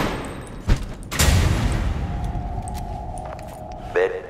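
Gunfire in the video game Deceit comes as a sharp shot followed by a louder blast with a rumbling tail, set among game noise and a steady electronic tone, with voices talking alongside.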